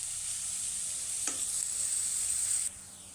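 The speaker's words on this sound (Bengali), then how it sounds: "দেখেন আমার পেঁয়াজ আর আদাটা আমি ব্রাউন করে বেরেস্তাটা ভেজে নিছি" Sliced onion and chopped ginger frying in oil until brown for haleem, a bright steady hiss of sizzling with one short scrape midway, close and fairly quiet, dropping off abruptly near the end.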